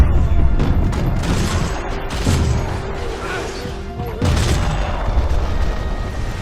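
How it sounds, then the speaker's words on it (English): Max Payne video game firefight with dense booming gunfire and crashing impacts rolling through a continuous loud barrage, bursts swelling and easing over a busy mix of game sound. "Firefights are intense at normal speed and bullet time."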